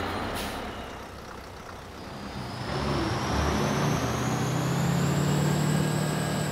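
A bus slows to a halt, its engine rumbling steadily over a broad wash of road noise, with a short burst of air-brake hiss near the start and a faint high whine building as it stops.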